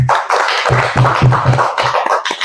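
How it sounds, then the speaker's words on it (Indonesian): Audience applause at the close of an orientation seminar for PPPK civil servants in Surakarta, a steady bed of hand claps lasting a few seconds with no talk over it. "Aplaus untuk Mbak Ratna."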